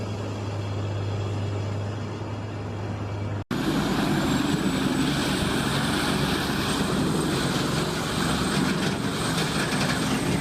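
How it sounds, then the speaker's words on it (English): A CBI Magnum Force 8400 grinder shreds timber into chips at full throttle in a large timber stockyard, a loud continuous roar that starts abruptly after a brief cut and then churns on steadily. "the CBI Magnum Force 8400 de Bear is operating at full throttle"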